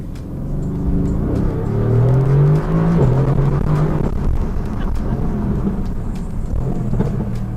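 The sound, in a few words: sports car engine revving with exhaust backfires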